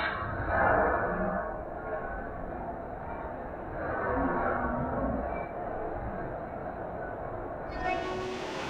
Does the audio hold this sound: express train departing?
yes